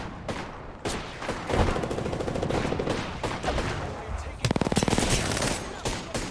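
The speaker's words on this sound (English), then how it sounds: "Grenade's going out." Gunfire erupts in an Apex Legends match after a grenade is thrown, with sharp shots and a rapid automatic burst near the end, loud and close, while a player talks briefly over it.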